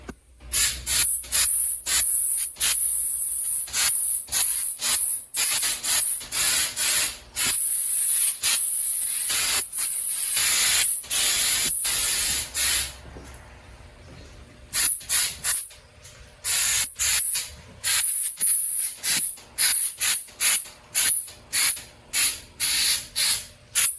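Coating sprays onto a gas tank for an '88 Scottsdale pickup in repeated loud, close hissing bursts of varying length, separated by short silent gaps, with no talk.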